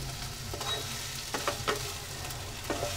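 Spiced bakla sabji being stirred in a frying pan, with a steady close sizzle and soft intermittent scrapes of the spoon against the pan.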